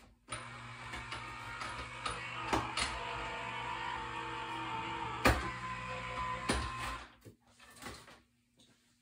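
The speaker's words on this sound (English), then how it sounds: "I'm gonna go cut this on my big machine" A big die-cutting machine cutting a scallop contour die: a steady mechanical whir and hum with clunks and clicks at irregular intervals, then the motor winds down into quiet near the end.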